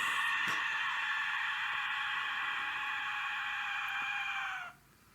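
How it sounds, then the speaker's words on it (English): An Aztec death whistle gives a piercing, sustained shriek like a human scream, loud and steady for several seconds before cutting off abruptly. "This is the death whistle."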